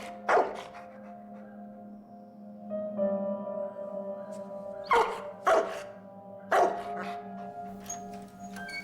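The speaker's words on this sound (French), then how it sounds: "arrête d'aboyer" A Labrador barks sharply several times at uneven intervals, nearby and loud, over a steady tonal hum in the background.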